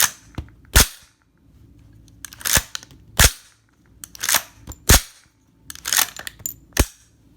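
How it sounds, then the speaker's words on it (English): The action of a 5.56 rifle is cycled repeatedly by hand, producing a series of loud close metallic clacks, sharp snaps and rattles as rounds are ejected, in an irregular rhythm with brief pauses. "Now I'm going to cycle the action to see how well this works."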